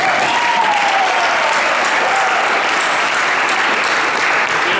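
At an awards dinner, the audience gives loud, sustained applause that stays thick and even throughout.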